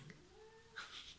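A house cat gives a short, faint meow, a rising drawn-out cry followed by a brighter squeal, while a dog lies blocking its path indoors; quiet and close with no talking.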